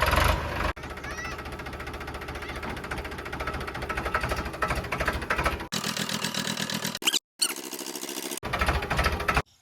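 A tractor engine chugs steadily up close during rainy-season farm work, a continuous mechanical drone broken by a few abrupt cuts.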